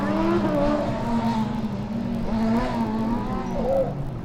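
Combustion-engined Formula Student race car, car number 45, running an autocross course, its engine revving and dropping in repeated surges as it accelerates and brakes, loud and fairly close.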